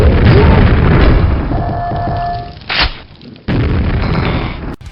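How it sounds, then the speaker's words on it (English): A grenade launcher fires in the video game Quake 4, with loud, booming blasts and bursts over a dense rumbling bed, a brief whining tone, then a sharp pop and further heavy noise. "To this day, I still hear that grenade launcher in my sleep."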